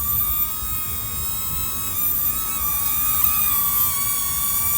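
A DJI Mini 3 Pro camera drone hovers close by with a high, steady whine of stacked tones, wavering slightly in pitch, loud and continuous with no talking.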